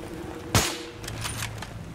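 Gunfire in the video game Battlefield 3 during a night mission: one sharp, loud shot cracks out, followed by a few faint, scattered pops in the background.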